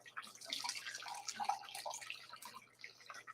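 Boiled water pours from a kettle into a pot, a soft, steady splashing trickle of about three seconds at moderate distance, with no talking over it.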